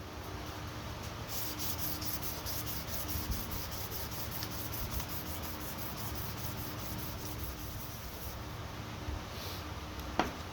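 A Damascus steel knife blade is hand-sanded to remove a thin coffee-etch oxide layer, giving continuous close rubbing strokes at an even pace, with a faint click near the end.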